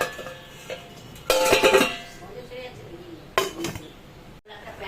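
A metal lid set onto a pot of red lentils cooking with jute leaves in a home kitchen, giving a couple of clattering clinks of metal on metal close by, with quiet kitchen noise around them.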